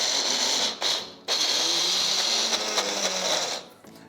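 An electric grinder whirs loudly and steadily as it grinds soaked urad dal. It cuts out briefly twice near the start, then runs on continuously before winding down at the end. No talking.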